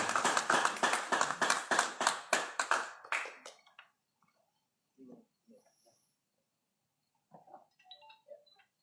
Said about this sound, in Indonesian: Boleh kita iringi dengan tepuk tangan yang meriah.